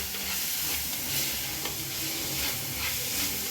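Green chillies and garlic fry in hot oil for a prawn roast, a dense, loud sizzling hiss throughout with soft stirring scrapes underneath and no speech.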